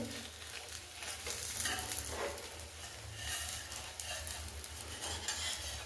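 Thalipeeth, a Maharashtrian flatbread, roasting on a hot pan with a soft continuous sizzle and frying crackle, plus occasional light scrapes, steady and fairly quiet throughout.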